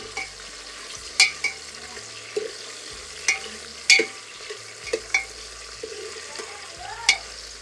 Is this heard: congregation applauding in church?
no